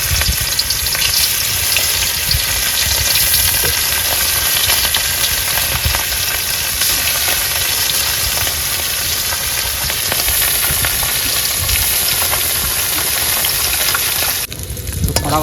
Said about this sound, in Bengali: কড়া ভাজা দিতে হবে।